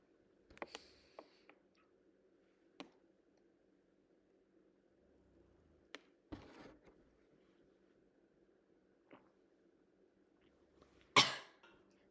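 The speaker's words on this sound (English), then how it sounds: "The cough at the end ensures that any food or liquid that has entered the airway can be expelled." A single sharp cough ends a swallowing maneuver demonstration, loud and close near the end after a quiet stretch of faint ticks, small throat sounds and a short rustle.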